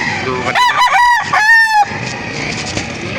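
A rooster crows loudly and close at a busy chicken auction market in Lipa, with two quick clucking bursts before one long drawn-out crow over a steady background murmur of the crowd.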